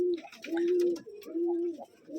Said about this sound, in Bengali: বের করেন সব কবুতর, দেখবো আমরা।